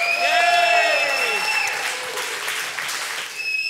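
A variety show crowd claps and cheers, a continuous wash of applause while a voice and a bright whistling or siren-like tone sweep above it at first, the clapping carrying on alone afterward.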